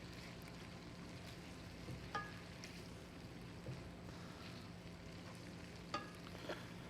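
Marinated lamb sizzles in a pan while being stir-fried for pad thai, a quiet, steady frying hiss with a few faint scrapes and clicks from stirring.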